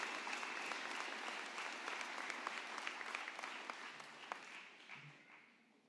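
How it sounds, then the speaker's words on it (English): Applause from a graduation audience at an engineering school ceremony, a steady wash of many hands clapping with scattered sharper claps, heard from a distance and fading toward the end. "Can we just give a round of applause to your teachers and parents and families and administrators?"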